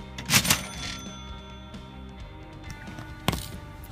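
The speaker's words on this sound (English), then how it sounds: "Roman, you should see this register. You gotta hear it" An old cash register in a guitar store rings out with two quick mechanical clanks near the start and another sharp clunk later, between quieter rattling in a small room.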